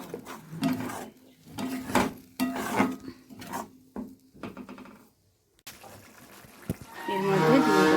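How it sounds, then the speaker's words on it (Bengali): Chili powder stirred in a cooking pan, irregular scraping and rubbing strokes of a spoon against the metal with a brief pause, then a louder sizzle near the end. "এগুলোকে ভালো করে নেড়ে নেব।"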